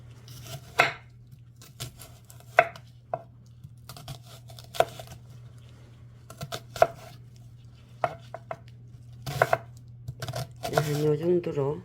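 A knife chops onion on a cutting board in irregular bursts of sharp taps, close and clear over a low steady hum, with someone speaking between strokes.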